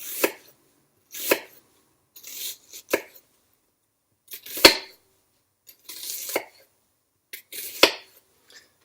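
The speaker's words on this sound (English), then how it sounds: "Then you turn it around, and then you continue making thin cuts." A knife cuts thin slices of greens for a Greek village-style spinach pie, giving about eight separate crisp chops on a cutting board with short quiet gaps between them.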